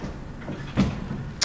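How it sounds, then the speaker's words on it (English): A Thyssenkrupp elevator door in the old Johns Hopkins hospital slides shut with a soft rumbling thud and a brief metallic click at the end, near and moderately quiet over background hum. "there's that door closing"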